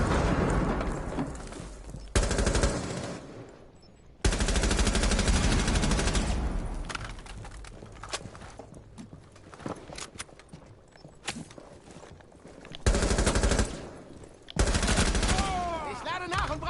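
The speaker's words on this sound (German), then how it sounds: "DP-28 aufgebaut und bereit." A DP-28 machine gun firing in Rainbow Six, with several loud sustained bursts separated by short pauses, mixed with footsteps and game noise and occasional talk.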